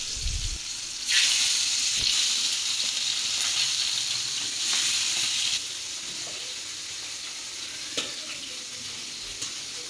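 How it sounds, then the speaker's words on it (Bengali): Koi and puti fish fry in a pan, giving a loud, hissing sizzle that surges for several seconds, then settles into a quieter bubbling crackle with a few light clinks. "এখন মাছগুলো ভেজে নেব।"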